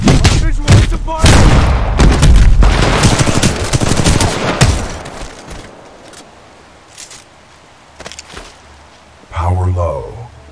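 Titanfall 2 weapon fire in the Operation Broadsword mission: rapid, loud automatic bursts with heavy booms for the first half, then scattered shots fading out, with a mechanical voice at the end.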